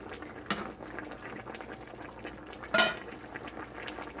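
Rohu fish curry with squash simmers in a pot, giving a soft, steady bubbling with a brief utensil knock early on and a louder clatter against the pot near the end.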